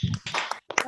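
A primary school class claps out the rhythmic 'tepuk janji pelajar' chant, a few sharp bursts of clapping separated by a short pause, with voices mixed in.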